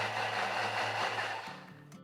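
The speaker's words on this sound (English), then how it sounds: "So actually I'll just blend in that sesame oil a little bit" A blender whirs briefly, blending sesame oil into a sauce, a steady motor hum for about a second and a half before it winds down and stops.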